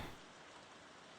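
A brief burst of hissing rain from a Poison Rain spell in the game Queen's Wish, a dense wash of patter starting sharply and continuing evenly for about a second.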